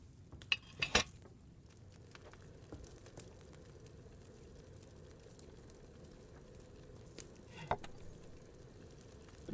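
Brewing a potion in Kingdom Come: Deliverance II: a few quiet metallic clinks of pots and utensils rise over a soft, low bubbling and crackling bed, faint and mostly steady.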